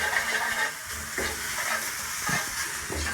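Beef stir-frying with onion, ginger and garlic sizzles loudly in a hot pan, a dense continuous crackle with occasional heavier scraping and tossing thumps as the meat is moved around, close and without speech.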